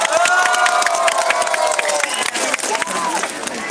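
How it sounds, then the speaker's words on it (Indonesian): Crowd applause and cheering before a dangdut concert in Danau Panggang, a lively outdoor audience with clapping, shouts and whistles, and voices calling throughout. "Mohon tepuk tangan yang paling meriah."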